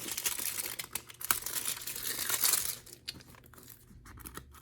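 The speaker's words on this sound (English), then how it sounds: "Let's go and peel it off here." Thin plastic shrink wrap crinkles and tears as it is peeled off a fitness tracker box, with crisp crackling bursts close up and quieter rustles toward the end.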